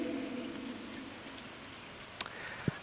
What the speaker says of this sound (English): Rainy days. They water your crops.